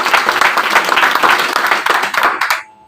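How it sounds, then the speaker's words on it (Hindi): Loud, dense applause from an audience welcoming journalists at a Shri Ram Hanuman Seva Samiti meeting, a steady wash of clapping that stops abruptly near the end. "इनके लिए जोरदार तालियों से स्वागत।"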